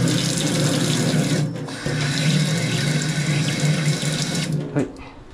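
Tap water streams from a kitchen sink faucet, a TOTO wall-mounted mixer with rusty water, while its tip filter is rinsed. The flow is loud and steady, changes briefly as the stream is disturbed, and cuts off just before the end.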